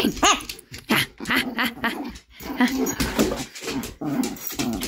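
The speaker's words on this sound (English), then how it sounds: "Why are you growling at me?" A pet dog growls and grumbles in low, throaty bursts at close range indoors, interspersed with whimpers, while someone talks over it.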